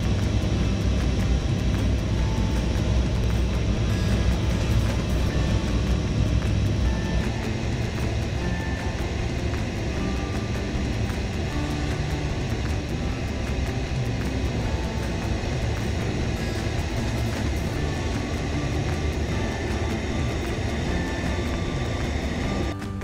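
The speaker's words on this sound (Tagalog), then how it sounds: "Ito ay ang pinakamalaking aircraft na routinely inooperate ng US military." Steady engine drone from a very large US military transport aircraft, a continuous loud broadband roar with a low rumble and faint tonal whine, unchanging throughout with no voices.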